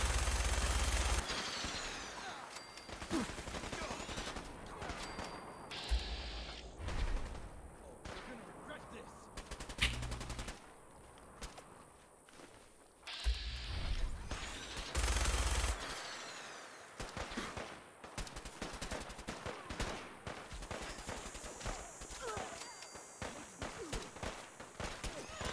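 Gunfire from a gun in Fallout 4, repeated sharp bursts and single shots spread across the stretch, some loud and close, with gaps of quieter game ambience and occasional talk.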